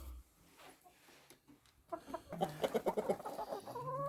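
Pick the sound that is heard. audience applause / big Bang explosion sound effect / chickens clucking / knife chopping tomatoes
chickens clucking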